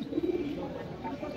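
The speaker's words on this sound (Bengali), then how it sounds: "কবুতর এখানে অনেক অনেক আছে" Pigeons coo at the Mirpur pigeon market, a low throaty rolling call close by that fades into a busy, murmuring background.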